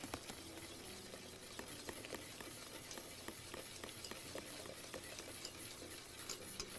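A whisk stirs a cornstarch mixture in a pot, giving quiet, rapid scraping and clicking strokes against the metal in a steady rhythm, close and low in level with no talking.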